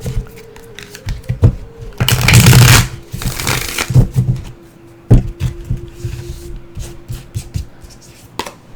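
Healers of the Earth oracle cards being shuffled by hand, a loud close riffling burst followed by quieter taps, slides and card handling.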